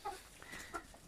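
Chickens in a farm coop cluck softly in a quick, close burst of a few short calls, with no voices over them.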